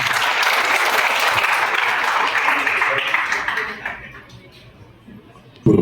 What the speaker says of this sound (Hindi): उनके लिए एक जोरदार ताली।